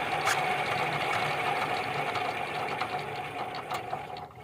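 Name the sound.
diesel power tiller engine struggling to start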